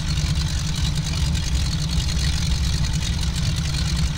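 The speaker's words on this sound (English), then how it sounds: "Still, I love the sound of that engine." Steady low radial piston engine drone of a simulated Beechcraft D17 Staggerwing idling continuously in X-Plane 10, a rumbling hum with no pauses and no voices.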